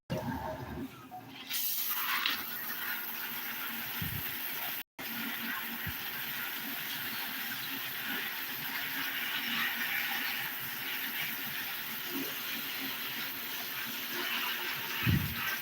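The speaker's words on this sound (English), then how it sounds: "I can give her a shower. This is how I water my big plants." Steady broadband rush of shower water pouring over large potted houseplants indoors, continuous and fairly close, with a brief break early on and faint handling noises.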